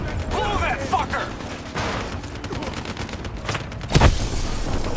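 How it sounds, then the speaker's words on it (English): Blast of tunnel supports being blown up during a Call of Duty: Black Ops 3 campaign mission, a sudden loud boom near the end over constant mechanical clatter and scattered gunfire. "Detonation confirmed."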